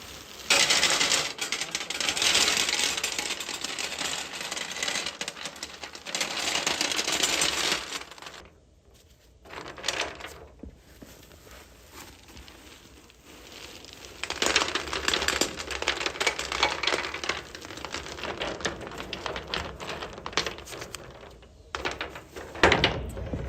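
Decorative rocks poured and shifted into a powder-coated fire table's fire pit, giving dense clattering and rattling that comes in long waves with a quieter gap midway.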